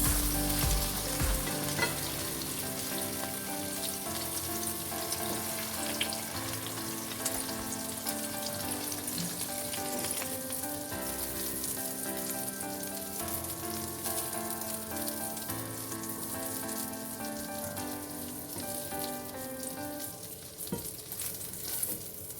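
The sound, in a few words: omelette with onion rings frying in a pan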